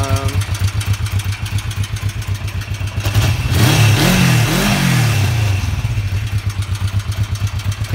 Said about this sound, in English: It revs really good.